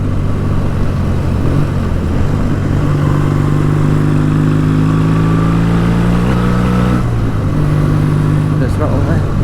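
A BSA A10 650 Super Rocket motorcycle engine drones loud and close during a ride, holding a steady note with gradual pitch rises as the throttle is opened, mixed with wind noise.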